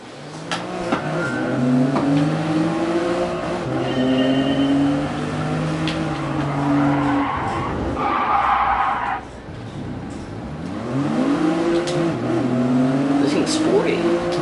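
A Toyota GR Yaris in Gran Turismo Sport races with a steady, loud engine drone that climbs and drops through gear shifts, with a brief lull before it revs hard again, plus faint tire noise.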